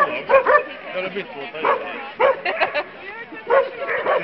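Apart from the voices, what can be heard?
dog barking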